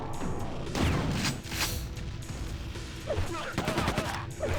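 Rapid gunfire in Quake II (2023 Remaster), with bursts of shots and crashing impacts over a busy background, moderately loud and dense throughout.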